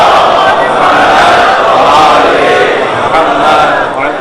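A large gathering at a first-of-Muharram majlis loudly chanting salawat together, a dense roar of many voices in unison that stays strong and sustained from start to finish.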